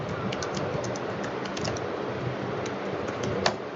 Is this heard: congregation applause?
no